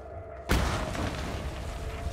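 In the Mad Max video game, an explosion blows open a door. It is a sudden, heavy boom that cuts in after a moment of quiet and then rumbles on steadily to the end.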